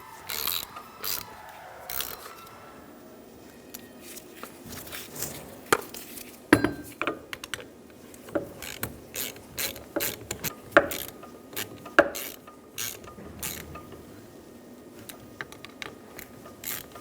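Ratchet tightening the bolts on a power steering pump of a 2005-2015 Toyota Tacoma, with rapid clicking runs and metallic taps repeating irregularly, up close, with no talking.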